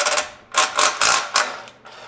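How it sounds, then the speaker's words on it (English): An impact wrench works on exhaust midpipe nuts of a G8x BMW M3/M4, firing several short rattling bursts separated by brief pauses, close and fairly loud. "You can use an impact."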